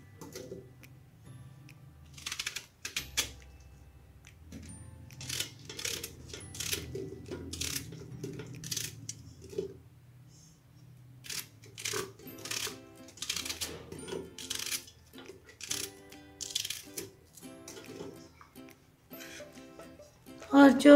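A knife chops food into thick pieces on a board for a Punjabi mutton masala gravy, irregular close clicks and taps in bursts, with someone talking intermittently over the cutting.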